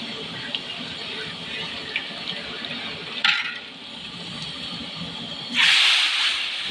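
Chopped tomato goes into cumin in a hot pan, setting off a sharp burst of sizzling near the end that rises over a continuous background frying hiss and occasional stirring clinks.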